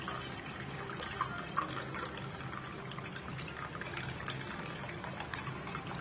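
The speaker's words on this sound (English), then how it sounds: "you want to make sure that you strain that into a glass" A ginger drink is strained into a glass, giving a quiet, steady trickle of pouring liquid with faint splashes, close and alone.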